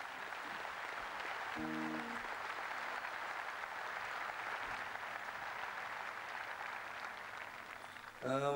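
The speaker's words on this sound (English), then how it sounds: "So very, very big round of applause for you" Sustained applause from an audience honouring former H Block prisoners, a steady dense wash of clapping that fills the whole stretch, with a brief voice near the start and a louder burst of speech at the very end.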